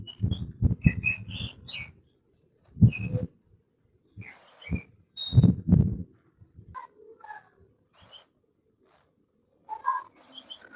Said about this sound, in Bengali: গোল্ডেন ফিঞ্চ পাখি আছে